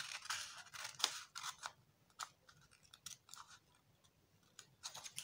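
Scissors snip through fabric while a collar is being cut for sewing, a series of short, crisp cuts in quick irregular succession, close and fairly quiet with no talking.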